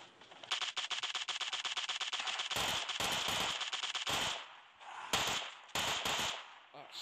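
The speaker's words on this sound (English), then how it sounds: "Where are those shots coming from?" Rapid bursts of automatic gunfire from a PUBG zombie-mode match, first a fast even stream of close shots, then choppier volleys with short gaps, loud and crackling.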